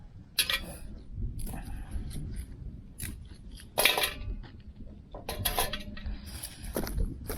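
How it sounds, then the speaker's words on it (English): Dry twigs snapped by hand at a trail shelter to feed a Solo Stove Lite: a handful of sharp, separate cracks scattered over a few seconds, close by, with soft rustling between them. "I'm just going to break up some twigs here"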